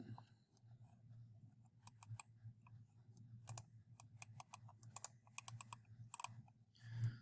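Quick, faint clicks from a computer mouse or keyboard come in irregular clusters over a steady low hum in a quiet room.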